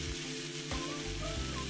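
Sliced cabbage going into a hot frying pan for sautéed cabbage, a steady close sizzle with faint clatter as the vegetables drop in.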